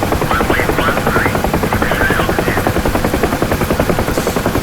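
A UH-1 Huey helicopter in DCS thumps with a steady, loud rotor beat over a continuous turbine whine, the pulse unchanging throughout.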